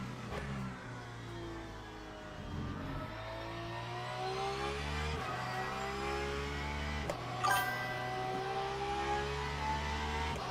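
Mercedes-AMG race car in Le Mans Ultimate, its engine revving up through the gears in repeated rising sweeps with brief dips at each shift, steady and close with no talk.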